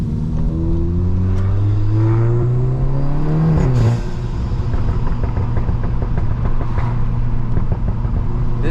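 A Volkswagen Golf R revs loud and close from inside, the engine note climbing then dropping sharply as the throttle lifts, with droning exhaust and road rumble continuing underneath.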